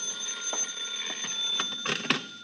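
A telephone rings in an old radio drama, a steady electric bell tone with repeating pulses, fairly clear and alone with no talk over it.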